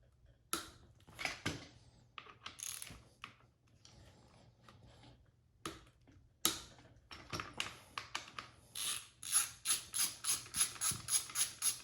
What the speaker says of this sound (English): I will also need to take off the front brake caliper, which is held on by two 12mm bolts.